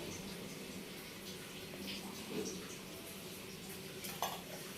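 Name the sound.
green chilies frying in oil in a pan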